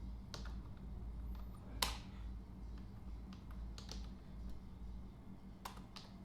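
Quiet, sporadic keystrokes on a computer keyboard during Hindi typing practice, with sharp isolated clicks scattered over a low steady hum, close and unhurried.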